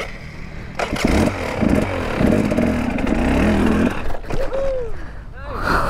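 A Husqvarna TX300 trail motorcycle engine revs and burbles up close on a muddy trail, rising and falling throttle bursts mixed with people talking nearby.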